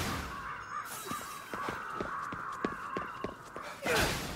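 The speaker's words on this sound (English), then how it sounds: "Shut these fucking crows up" Crows in the video game Ghostwire: Tokyo caw in a run of sharp, repeated calls at a fairly steady rhythm, moderately close, with a louder burst near the end and no talk.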